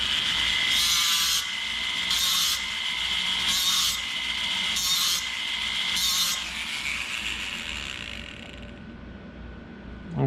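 Repeated scoring strokes scrape a groove across a sheet, about five steady back-and-forth rasps close up, each a bright scratchy burst, fading to quiet at the end.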